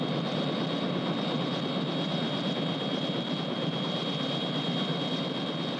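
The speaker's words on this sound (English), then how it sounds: "isn't that your helicopter over there?" Helicopter in a 1970s film scene, a steady loud rotor and engine drone holding unbroken for several seconds with no talk over it.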